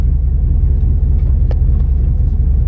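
A car pulling up to a curb, its engine a steady low rumble heard from inside the cabin, close and continuous with only faint clicks above it.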